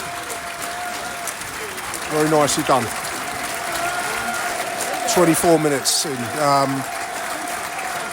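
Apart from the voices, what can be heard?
stadium crowd applauding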